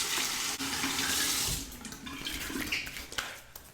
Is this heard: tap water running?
yes